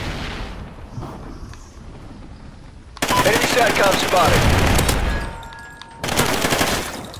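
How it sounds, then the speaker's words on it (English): Gunfire in Call of Duty Ghosts: dense automatic bursts, a long loud stretch then a second volley after a short pause, over low game ambience with a voice speaking. "I was just shooting randomly"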